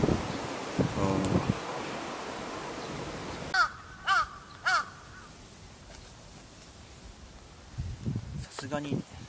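A crow caws three times in separate, fairly close calls, with more cawing near the end, over wind and rustling outdoors while a person speaks at the start.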